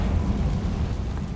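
The Confringo blasting spell from Hogwarts Legacy, a loud, rumbling fiery burst that roars steadily through a short moment with no voice over it.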